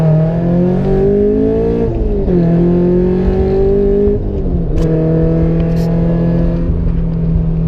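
Supercharged Subaru BRZ accelerating hard in second gear from about 4,000 rpm, engine note climbing loud and close with a supercharger whine, a brief dip at each pitch change before rising again.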